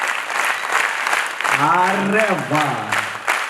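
Children at a drug awareness event clap with their hands raised, a steady crowded patter of applause, while a voice exclaims clearly over the clapping partway through.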